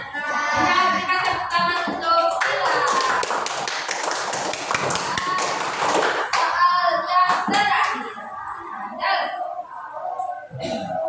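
Children clap their hands together in a classroom, a dense burst of overlapping claps that swells and then thins out, with young voices and chatter mixed underneath.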